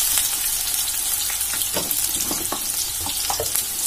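Chopped onions and slit green chillies sizzle steadily in hot oil for a chicken and red potato curry, with soft scraping stirs breaking through the close, continuous frying hiss.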